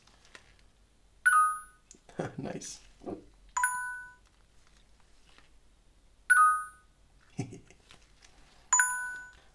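Custom ringtone tones from a Nokia 6290 mobile phone play as four short, clear electronic melodic chimes spaced a few seconds apart, with someone speaking briefly between them.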